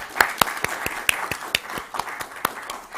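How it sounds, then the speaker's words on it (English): Sparse, scattered hand claps from a small audience greeting dignitaries at an IPO listing ceremony, individual claps distinct and fairly close, no talk over them. "Big round of applause for all our dignitaries today."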